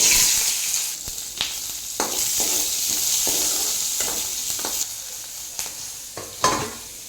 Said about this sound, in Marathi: आता यामध्ये आपण एवढी मिरची आणि एवढी लसूण हे पण भाजून घेऊ